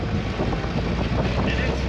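A 1963 Willys Jeep CJ5 engine running with a near-stock exhaust note, heard as a steady rumbling drone mixed with wind buffeting on the microphone.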